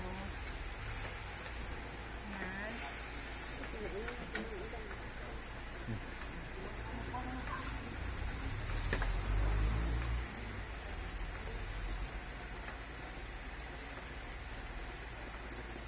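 Pancit noodles with soy sauce sizzle steadily in a pan as they are stirred, a continuous hiss that carries the whole time, with a voice talking faintly over it.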